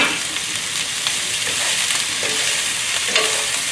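Moo shu ingredients stir-fry in a hot pan, giving a steady close sizzle broken by occasional scrapes and tosses of the stirring utensil, with no talking.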